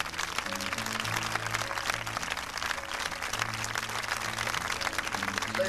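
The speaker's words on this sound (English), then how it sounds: "give round of applause." Sustained crowd applause honouring veterans and military members at a public gathering, a dense steady wash of many hands clapping for several seconds, with a faint tonal hum underneath.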